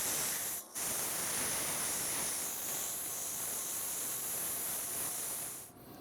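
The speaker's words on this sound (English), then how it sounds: "If you do a little cutting, you got to do a little sanding." A continuous bright hiss of abrasive sandpaper rubbing against wood spinning on a Laguna 1216 midi lathe while turning a canister, fairly close, with a brief drop near the start and a fade at the end.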